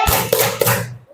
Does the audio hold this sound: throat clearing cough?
no